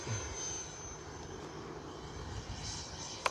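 An FMS Super Scorpion RC jet makes a slow, low pass with flaps down, a steady broadband airframe and engine whoosh sustained throughout at moderate level, with a brief sharp click near the end.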